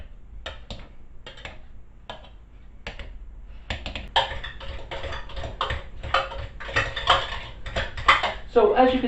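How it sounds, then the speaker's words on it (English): Hot boiled potatoes are mashed in a pot with a standard potato masher for gnocchi. Sparse metallic taps give way to rapid, close clattering and knocking as the mashing speeds up. "we're just going to mash them, and we are going to use a standard potato masher"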